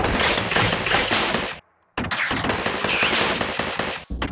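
Rapid, dense bursts of weapon fire from a mech suit blasting security robots in the game Gato Roboto, loud and continuous, with a brief silent gap midway before the barrage resumes.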